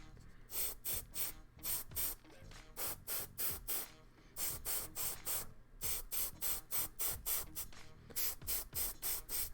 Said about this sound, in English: the airbrush is a great tool for quick base coats